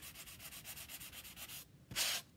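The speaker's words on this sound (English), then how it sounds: "I'm going to take my sandpaper, and I'm going to very lightly go over" Sandpaper lightly rubbed over a chalk-painted St Patrick's Day welcome sign, a quick series of rhythmic scratchy strokes close up, ending with one brief louder swipe.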